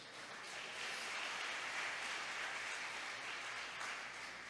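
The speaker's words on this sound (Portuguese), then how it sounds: "Quem crê nisso, aplauda ao Senhor." A church congregation claps together in a sustained, even wash of applause that sounds faint and somewhat distant, with no voices over it.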